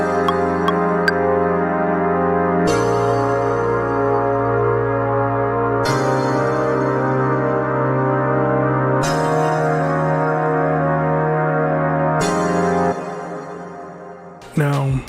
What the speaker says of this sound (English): Now what I did sounds like this. I added some chords,